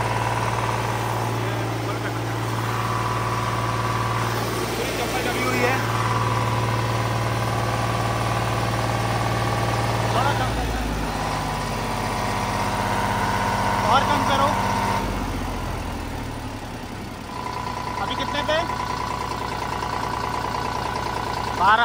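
A Mahindra Arjun NOVO tractor engine runs steadily close by, its drone shifting in pitch as the revs are raised gradually, with a strong low hum throughout and some mechanical rattles.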